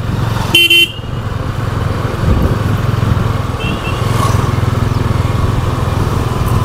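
A 2025 TVS Ronin motorcycle riding in third gear, its engine a steady, loud low drone throughout with wind noise, and a short horn toot near the start.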